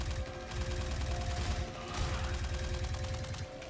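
Sustained rapid automatic gunfire in the space shooter Star Citizen, a dense steady rattle of shots running throughout, loud and close, without talk.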